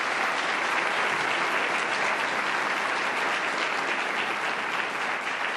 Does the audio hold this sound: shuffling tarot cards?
no